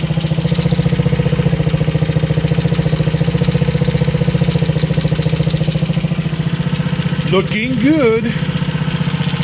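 The engine of a 1966 Sears Allstate Puch motorcycle idles up close with a steady, even chugging putter, while someone speaks briefly over it near the end.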